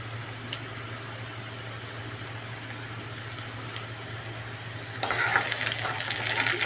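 Chopped tomatoes fry in a pan for a ridge gourd palya, giving a steady close sizzle with a low hum underneath that turns brighter and louder near the end as stirring picks up, no talking.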